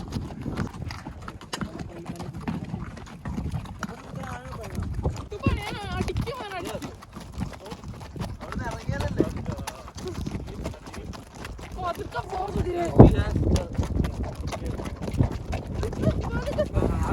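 Steady clip-clop of horse hooves moving along a beach in Egypt, mixed with voices chatting and some wind buffeting throughout.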